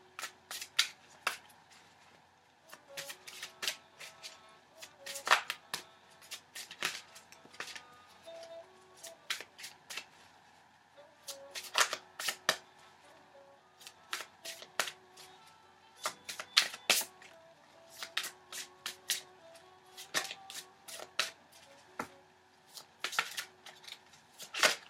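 Tarot cards are shuffled in repeated bursts of crisp riffling and flicking, close and fairly quiet, with short pauses between each round.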